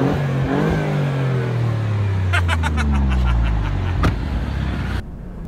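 An Alfa Romeo Giulia Quadrifoglio's engine running in race mode, a loud, close, steady roar whose pitch sinks gradually, with a few sharp pops near the end before it drops quieter.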